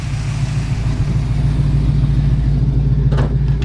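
A 1970 Plymouth Cuda with a 440 six pack V8, welded exhaust and Flowmaster mufflers, rumbles deep and steady up close as it pulls away, a low throbbing engine note with a brief knock near the end.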